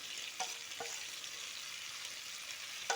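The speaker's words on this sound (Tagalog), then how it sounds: "Halo natin yan hanggang sa yan ay magkahalo-halo na maligit." Broad beans with garlic, onion, tomato, chili and tomato paste sizzling in a pan, a soft steady fry with a few light stirring scrapes from a utensil.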